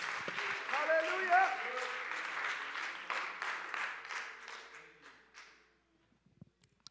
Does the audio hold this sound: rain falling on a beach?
no